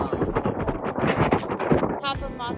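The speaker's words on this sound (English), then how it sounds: "it's really windy up here at the top of Mossy Cave" Gusty wind buffets the microphone in uneven low rumbles at the top of Mossy Cave Trail in Bryce Canyon National Park, with a person talking over it throughout.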